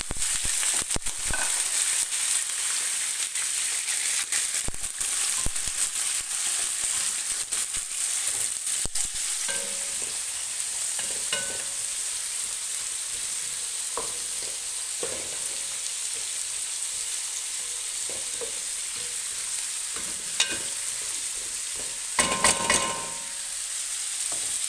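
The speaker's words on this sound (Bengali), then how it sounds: "এখানে আমি কিছু আস্ত মশলা দিয়ে দিচ্ছি। আর আমি যে এখানে তেল গরম হয়ে গেছে গা" Whole spices frying in hot oil for a prawn soup: a steady hiss of sizzling with scattered sharp crackles and pops, continuous and close, with no talking.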